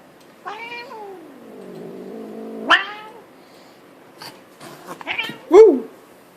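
Tabby cat indoors meowing and caterwauling, aggravated by another cat outside: a few drawn-out, wavering yowls and short sharp cries, close and clear in a quiet room.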